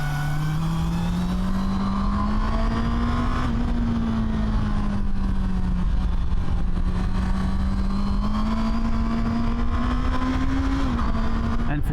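A motorcycle rides along a road into the sun, its engine humming steadily with gentle rises and falls in pitch and constant wind noise, close and loud throughout.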